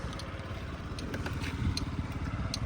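A 2017 Yamaha Jog SA 55 fuel-injected scooter idles close by with a steady, quiet, even chugging putter and no voices.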